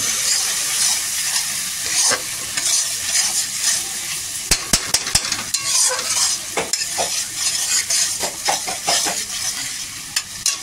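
A tomato mixture frying in a pan for a hilsa fish dish, stirred vigorously: continuous sizzle under repeated sharp scrapes and clacks of a spatula against the pan, loudest in a quick burst midway, nobody speaking.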